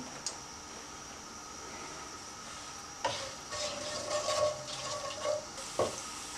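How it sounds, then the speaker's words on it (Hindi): Bay leaves and whole spices frying in hot oil in a pan for pulao, with a low steady sizzle that grows busier and louder in the second half along with a few stirring clatters. "चंद सेकंड के लिए इनको मैंने फ्राई कर लिया"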